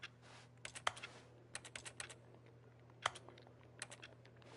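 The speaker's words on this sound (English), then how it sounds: "each time I press a button, it sounds like a computer keyboard" Button presses in the Stanley Parable game sound like computer keyboard keys: a scattering of sharp, irregular clicks over a steady low hum, with clusters of quick taps and a few louder isolated clacks.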